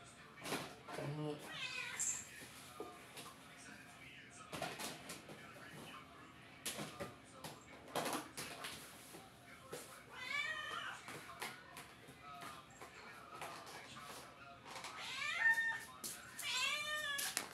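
A cat meows several times, drawn-out wavering cries close by, mixed with talking and household clatter.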